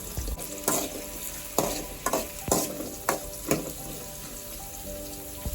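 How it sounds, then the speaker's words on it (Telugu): Chopped onion and three green chillies frying in a pan for Telangana bagara rice, a steady sizzle broken by repeated scraping stirs of a spoon, close and moderately loud with no talking. "ఇప్పుడు ఇది కొద్దిగా మనకి గోల్డెన్ కలర్ లెక్క వచ్చేదాకా వేపుకోవాలి"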